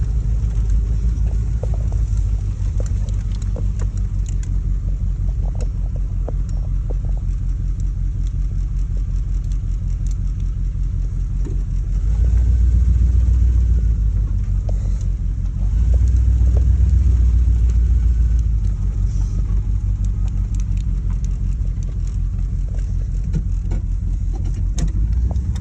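A Junebug van's engine idles and runs with a steady low rumble and a faint whir from power steering low on fluid; the drone swells louder twice midway, with no talking.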